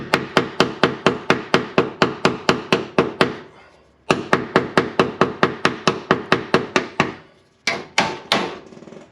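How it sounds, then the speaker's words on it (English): A hammer bangs on the rusted rear wheel well of a car, sharp metallic blows in a fast, even rhythm: a run of about fifteen hits, a short pause, another long run, then a few more, loud and close. "we're gonna get the hammer and start banging around on this"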